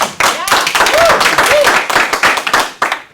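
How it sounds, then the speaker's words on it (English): Applause from a small audience at a 1 Million Cups Cedar Valley startup presentation, close clapping with individual hand claps audible, while voices speak over it. "give Zach a round of applause."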